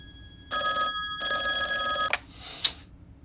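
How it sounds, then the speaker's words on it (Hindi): A telephone bell rings in two loud bursts indoors, each a bright metallic trill, followed by a short click as the receiver is handled. "अरे ये फोन भी ना कभी भी बज जाता है।"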